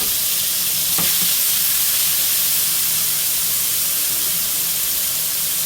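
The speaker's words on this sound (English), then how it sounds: "to a nice hot skillet, we're gonna add our shrimp" Shrimp frying in a hot skillet give off a steady, close sizzle with an even hiss throughout and no talking.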